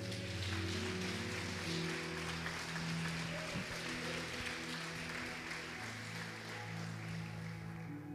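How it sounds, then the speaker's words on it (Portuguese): Church congregation applauding together, a sustained wash of clapping hands heard from within the room, fairly faint and steady with a low tonal hum beneath. "Quem crê nisso, aplaude ao Senhor, irmão."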